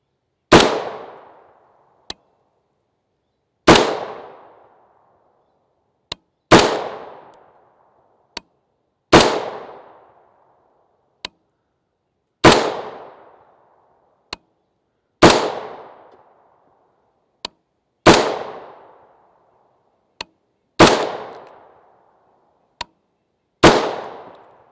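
Rifle firing 5.56x45mm 55-grain FMJ ball Armscor ammunition outdoors, around nine loud, sharp shots spaced a few seconds apart, each with a fading echo, and a faint click between them.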